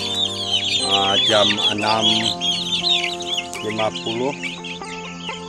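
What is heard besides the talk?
chickens clucking at feeding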